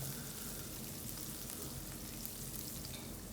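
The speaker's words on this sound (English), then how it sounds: "now we can toss in the red bell peppers so it gives more aroma and flavor" Red bell peppers hit a hot frying pan while Thai red curry fried chicken cooks, giving a steady, close, full sizzle with crackling spatters that lasts the whole stretch without any talk.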